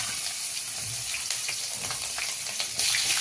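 Cumin and green chillies sizzle in hot oil in a kadhai for a fasting-day bhagar dish, a steady close crackling hiss with small pops throughout, growing slightly louder near the end.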